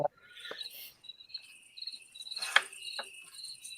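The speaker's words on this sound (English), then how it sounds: "playing crickets now." Recorded crickets played from a smart speaker chirp in short, high, repeating trills over near silence, interrupted by a few soft knocks.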